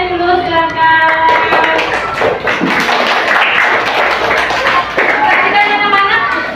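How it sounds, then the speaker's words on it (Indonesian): A classroom of children clapping hands for a group's work, loud scattered claps mixed with thumps and taps over several seconds, with a teacher's and pupils' voices talking over it. "Ya, tepuk tangannya dulu silakan."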